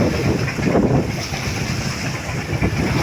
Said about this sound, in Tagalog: malakas pa ang hangin lumakas.